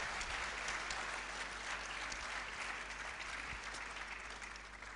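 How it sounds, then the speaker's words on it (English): Sustained applause from a festival session audience at the Lahore Literary Festival, steady and dense clapping filling the hall throughout, moderately distant with no voices over it. "a big round of applause, please, for Ayesha, Jalal"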